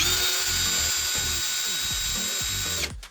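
A 16.8 volt cordless drill spins at full speed in its second gear, a steady loud high whine that runs close and alone before cutting off abruptly at the end.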